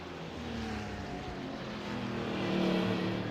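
Ford Mustang race car in a racing video game, a steady droning engine note that builds slightly louder toward the end, heard alone without talk.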